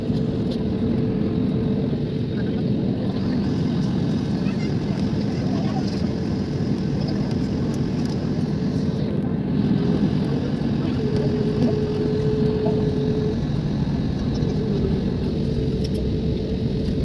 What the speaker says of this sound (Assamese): ৰানৱে লৈ যাই আছে ফ্লাইটখন আমাৰ।